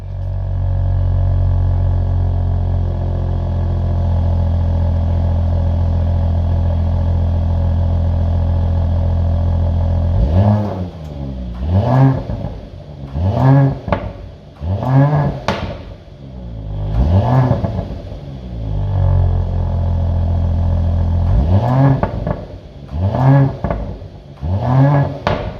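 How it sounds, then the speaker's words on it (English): The engine of a 2022 Mercedes-Benz GLE 53 AMG SUV, idling with a steady low drone and then blipped hard in a string of sharp revs that rise and fall in quick bursts, loud and close with no talking. "let's go inside and let's hear this powerful engine roars"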